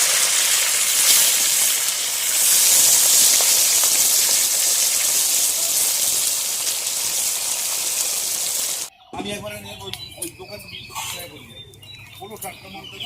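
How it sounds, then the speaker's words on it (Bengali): Fish fries over a strongly burning clay stove, giving a loud, steady sizzling hiss for several seconds before it cuts off abruptly to a quieter scene with a voice talking. "মাছ পুরো ভাজা ভাজা হয়ে গেছে, এমন উনুন তেজে জ্বলছে"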